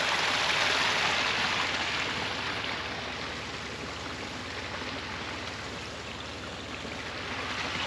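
Water rushes steadily past a deep trail crossing beside a Jeep Gladiator Rubicon on an off-road trail, a loud, continuous broadband flow with no letup and no voices.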